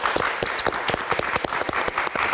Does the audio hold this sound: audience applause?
yes